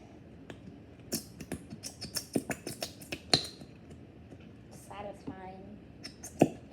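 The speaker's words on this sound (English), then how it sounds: "So when people in videos making slime and it sounds like this" Glue slime mixed with a plastic fork, giving quiet sticky clicks, squelches and pops in an irregular run, close and faint, with some soft bubbly squishes near the end.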